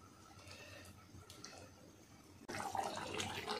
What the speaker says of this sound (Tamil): இப்போ வந்து இந்த கிரேவிக்கு தேவையான கொஞ்சம் தண்ணி விட்டுக்கலாம்.